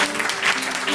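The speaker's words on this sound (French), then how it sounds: "Ça mérite un applaudissement, hein?" An audience at a literary tribute gathering claps in a brief, steady burst of applause, a close, even patter with no talk over it.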